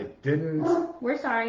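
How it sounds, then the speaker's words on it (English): A dog barks and whines close by in loud, drawn-out bursts, two main outbursts separated by a short gap, with people talking over it. "you can hear it. We're sorry about the dog."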